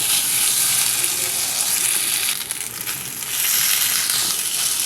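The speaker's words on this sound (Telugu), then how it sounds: "ఇప్పుడు ఇదే నేతిలో మనం మిక్సీ చేసి పెట్టుకున్న స్వీట్ కార్న్ పేస్ట్ వేసేద్దాం" Sweet corn paste frying in ghee, a steady loud sizzle that dips briefly midway and then returns at full strength, with no talking.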